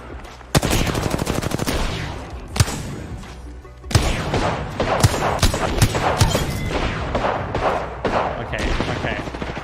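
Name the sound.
gunfire in the video game Apex Legends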